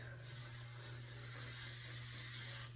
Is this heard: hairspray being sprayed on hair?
yes